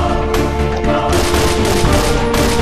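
An AUG A3 rifle blazes away in the online shooter Point Blank, a loud, dense and continuous burst of automatic fire with a few sharper cracks standing out.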